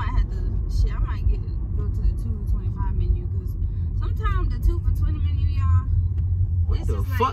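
A car drives past on a road, a steady low engine rumble running under loud conversation between people nearby.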